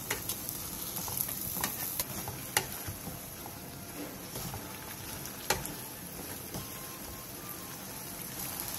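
Sweet potato stems stir-fried in a pan with anchovy broth, soy sauce, salt, perilla powder and rice flour give a steady soft sizzle with scattered scraping stirs and a couple of sharper knocks, close and continuous without talk.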